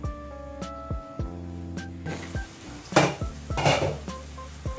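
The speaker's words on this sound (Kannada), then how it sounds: "ಸ್ವಲ್ಪ ಲಿಡ್ ಹಾಕಿರೋಣ." A metal lid set down on a pan while masala poha cooks gives a string of sharp clanks and rings, several separate hits with lingering metallic tones, followed by louder clattering near the mic.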